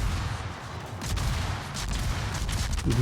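Destroyer guns in a World of Warships naval battle firing on a battleship, a dense rumbling fusillade of overlapping booms with repeated sharper bursts of gunfire.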